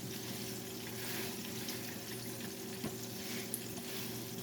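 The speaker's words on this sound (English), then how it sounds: "Fish is frying." Fish fries in a kitchen pan with a soft, steady sizzle and crackle, faint and continuous, with a few small pops and no talking.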